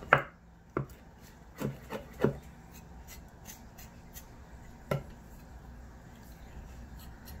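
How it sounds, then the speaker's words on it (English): Vegetables for a roasted veggie bowl roughly chopped with a knife on a board, a handful of uneven thuds early on and one more later, close and moderate over a faint background. "Let's give it a rough chop. It don't have to be fine."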